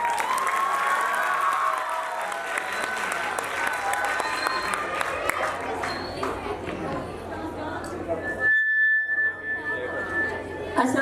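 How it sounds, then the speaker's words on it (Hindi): Audience applause mixed with chatter and a little cheering at a talent award show, a steady crowd wash with voices mixed in, briefly cut off before resuming. "बहुत सी तालियां"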